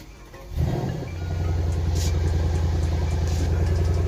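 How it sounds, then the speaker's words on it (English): A Mercedes C63s AMG engine, fitted with a VRP intake, catches at about half a second with a sharp rise in level and then settles into a steady, loud, deep idle that runs to the end without any talk. "let's go start the car up"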